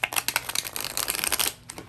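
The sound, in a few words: shuffling tarot cards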